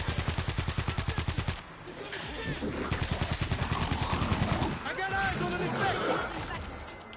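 Machine pistol fire in the zombie shooter World War Z rattles in rapid, loud bursts, a steady stream of shots that breaks off briefly before resuming, with game noise and chatter mixed in between.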